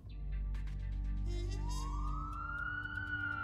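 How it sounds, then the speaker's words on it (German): A police car siren in the video game Leisure Suit Larry – Wet Dreams Dry Twice, rising into a steady wail that stands out clearly over the game's background sounds. "Und ein Polizeiauto."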